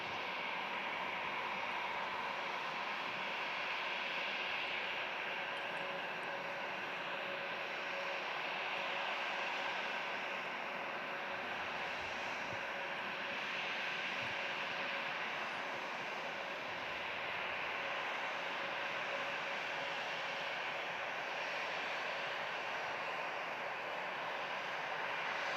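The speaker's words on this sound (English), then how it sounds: "we had another EasyJet arriving from Paris" An EasyJet airliner arriving from Paris, heard as a broad, distant engine roar that holds steady and fills the whole stretch, with no voices.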